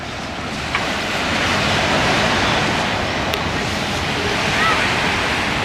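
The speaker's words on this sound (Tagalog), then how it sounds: "Kalmado naman yung dagat dito." Calm sea at Canyon Cove near low tide, a steady, broad wash of small waves and surf with some wind, fairly loud and unbroken, with no clear voices.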